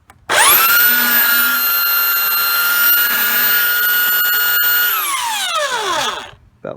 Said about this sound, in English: Belt sander.